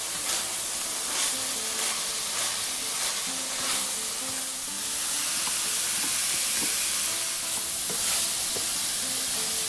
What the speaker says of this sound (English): this is just some lean ground beef and some onions that we're frying up here